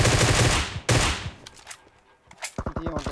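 Gunfire erupts in a video game, with a loud rattling burst followed by a second sharp volley, then a quieter gap with a few scattered shots as a voice speaks near the end.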